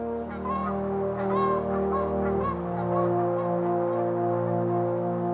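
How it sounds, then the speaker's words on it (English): Swans and other migratory birds call in flight, a series of repeated honking cries rising over a steady low drone for the whole stretch. "swans and other migratory birds fly away to the south."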